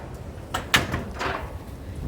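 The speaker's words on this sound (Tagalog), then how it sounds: "napagsaraduhan pa ako ng pinto" A door of a house is pulled shut with one short, muffled thud partway through. Softer rustling and faint knocks come before and after it, with no voices.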